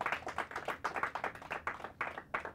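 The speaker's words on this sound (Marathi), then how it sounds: "टाळ्या वाजून आम्ही त्यांचं स्वागत करूया." An audience at a school team semi-final competition claps in welcome, a few pairs of hands giving quick, uneven rhythmic claps for under three seconds, moderately close and fairly soft, with no talking.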